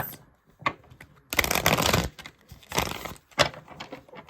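Tarot cards being shuffled by hand close up, in several short riffling bursts with brief pauses between them, the longest and loudest burst in the middle; no one speaks.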